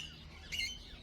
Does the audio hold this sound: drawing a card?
no